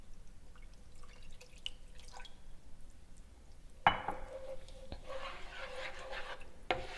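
Milk poured a little at a time into a pan on low heat for bacon jalapeño macaroni and cheese: a soft trickle and drips at first, then a sudden louder pour with splashing and stirring, heard alone.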